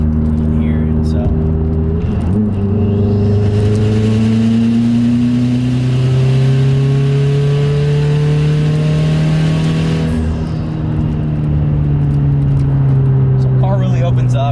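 A 2016 Subaru WRX with a Stage 3 build revs up through the mid-range as its external wastegates open, a loud, close, rising engine drone that holds steady for several seconds before easing off.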